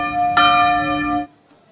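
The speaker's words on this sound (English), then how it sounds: "The next bell you hear is to switch within your table." A single bell rings once, clear and resonant, at a parents and teens conference to signal a table change, sustaining its tone for about a second before cutting off into quiet.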